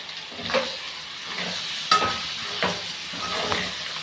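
Chicken curry with salt added, stirred in a hot pan: scraping spoon strokes come every second or so over a soft continuous frying sizzle, close and fairly quiet, with no voices.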